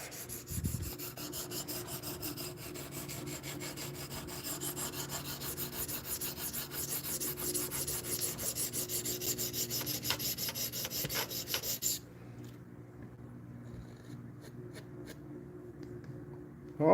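A knife blade drawn steadily over a KME sharpener stone, producing a continuous close, dry rasping scrape that runs for about twelve seconds before stopping abruptly, leaving near silence.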